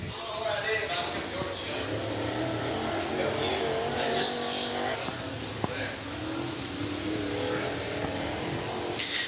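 An 07 race car hot lapping around the I-75 Raceway track: a steady, loud engine roar that rises in pitch as it comes around, running the whole time under an announcer's commentary.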